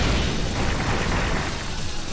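A sustained, loud, rumbling explosion in the video game Azure Striker Gunvolt, dense and noisy throughout with no speech.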